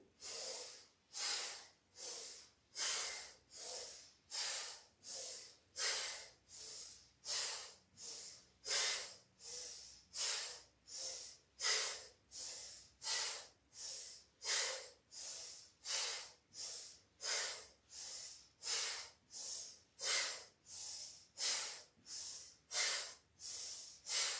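Steady paired breathing during a guided yoga exercise for the nervous system, each breath a strong hissing inhale or exhale through the nose, about one per second for the whole stretch, close and loud with no talking.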